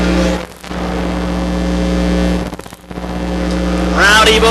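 ARCA Midwest Tour stock cars racing at the Milwaukee Mile oval, a loud sustained engine roar that dips twice as cars pass, then rises again with rising revs near the end.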